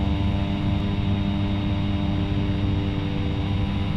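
A steady, unbroken propeller engine drone from a Cessna Caravan in the X-Plane 10 flight simulator holds at an even level throughout, with no talk.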